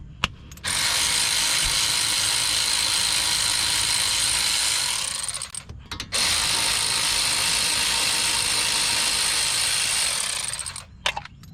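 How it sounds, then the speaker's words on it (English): A power ratchet buzzes continuously on the 14 mm caliper bracket bolts of a 2015–2019 Subaru Legacy front brake, in two long loud close bursts separated by a brief pause. "Caliper bracket bolts are 14 mil, and the bolt is not facing me, so it should be down."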